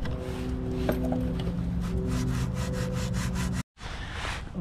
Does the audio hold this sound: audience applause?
no